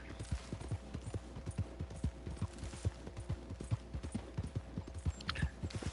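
Rapid, rhythmic hoofbeats of a galloping horse in a PS4 video game clatter steadily over a dense background rumble.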